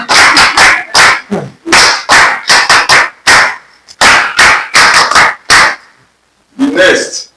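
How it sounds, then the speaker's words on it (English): An audience in a classroom training session claps together in loud, rhythmic bursts of quick patterned claps, broken by short pauses, with a longer silence before a final burst. "Clap for ILO."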